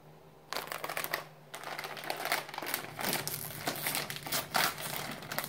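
Bag of Paqui haunted ghost pepper chips crinkles and rustles up close, in irregular crackling bursts of plastic foil being handled and squeezed, fairly loud and with no talking.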